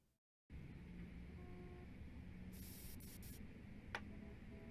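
Axe body spray aerosol sprayed in an advert, a steady close hiss that starts abruptly after brief silence and continues throughout, with a short brighter burst midway and faint tones beneath.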